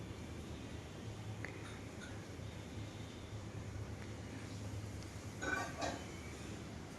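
Chicken pieces being stirred in a cooking pot, faint scraping under a low background hum, with a couple of soft metallic clinks of the utensil against the pot.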